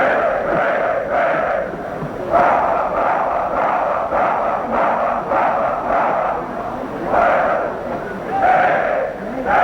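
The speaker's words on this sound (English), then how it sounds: "the cadets, hosts for the game, lined up on the track and gave a lusty cheer" Army cadets lined up on the track give a loud, sustained cheer at the Army–Navy football game, a massed chorus of voices rising and falling in waves.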